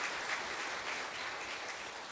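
A church congregation claps to welcome a newcomer during a Sunday worship service, a steady, faint wash of applause heard from a distance with no speech over it.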